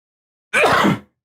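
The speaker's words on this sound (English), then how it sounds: "I got to sneeze." A single sharp sneeze, close and fairly loud, bursting out after a moment of silence and fading quickly.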